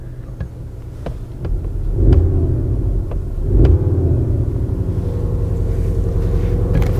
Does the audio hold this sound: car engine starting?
yes